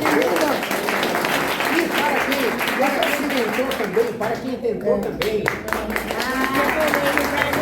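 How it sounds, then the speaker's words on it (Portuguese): Audience applause at a national gathering of visually impaired people, a steady run of clapping with voices speaking over it throughout. "Então, palmas para quem?"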